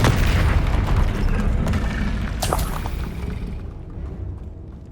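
Confringo spell explosion in Hogwarts Legacy, a single loud boom with a rumbling blast that decays over several seconds into a fading tail.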